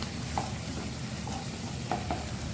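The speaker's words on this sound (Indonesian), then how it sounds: "ini jangan lupa diaduk-aduk biar matangnya merata" Quiet sizzling of chili paste frying in a pan, with a few soft scraping stirs of a utensil at irregular moments.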